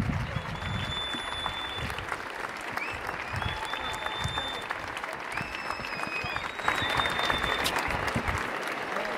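Sustained applause from a crowd at an outdoor rally in Mercadal marking the first anniversary of 1 October, dense clapping that swells slightly toward the end, with whistles cutting through.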